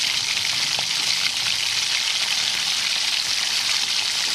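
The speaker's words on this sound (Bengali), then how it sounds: "কড়াইতে সর্ষের তেল গরম করে একে একে আমি মাছ ভাজাগুলো সব দিয়ে দেবো।" Bhola fish fry in hot mustard oil in a kadai, making a loud, even, close-up sizzling hiss that holds steady from start to finish.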